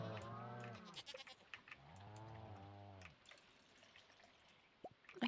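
Young goats bleat in the farming game Stardew Valley, two long wavering calls close together near the start, then quiet with a few small drip-like clicks.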